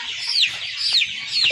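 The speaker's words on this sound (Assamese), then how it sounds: "এইটো মুৰ্গীটো" A chicken clucks close by in a short run of sharp calls, with other faint clucks underneath.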